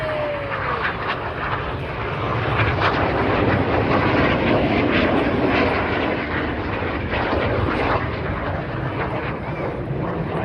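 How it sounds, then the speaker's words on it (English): Display jets at the Blackpool air show 2024 roar past during a synchro double barrel roll, a loud, broad rushing engine noise that swells and fades over several seconds, with no talking. "Each aircraft performing this dynamic barrel roll for the colourful and dynamic synchro double roll."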